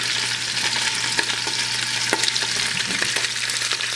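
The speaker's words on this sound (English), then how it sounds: "That's got a good sizzle to it." Beef sizzles in a hot pan, a steady crackling fry with scattered sharp pops and spits, close and fairly loud, no talking.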